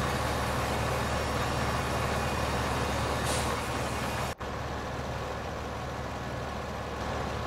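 Steady engine drone of a tractor in the farming game Farming Simulator 15, a loud continuous rumble that holds evenly, briefly cuts out near the middle, then resumes at the same level with no talk over it.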